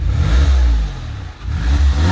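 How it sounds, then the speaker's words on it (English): A 2001 Porsche 911 Carrera 4 (996) on its stock exhaust revs hard and accelerates, the loud engine dipping briefly mid-pull before surging again, close and with no talking over it. "that is loud for a stock exhaust"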